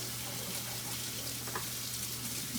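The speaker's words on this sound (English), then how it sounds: "So I have a can of chickpeas. I'm gonna rinse them out." Canned chickpeas rinsed under a running kitchen tap, a steady broadband rush of water spattering into a sink, continuous and fairly close with a few brief splashy bursts, no talking.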